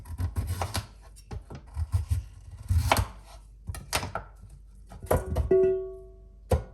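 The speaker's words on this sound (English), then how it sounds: "probably cut leek for smaller pieces, and also I will cut carrot" Knife chopping leek and carrot on a cutting board for vegetable stock, irregular clusters of sharp close thunks with short pauses between strokes.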